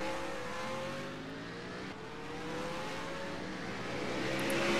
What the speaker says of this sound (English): Lead lap cars making their way around Autumn Brooks.